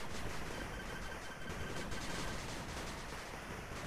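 Units in the video game 8-Bit Armies open fire, a dense, continuous clatter of overlapping gunshots that stays loud and unbroken for a few seconds, with no talk over it.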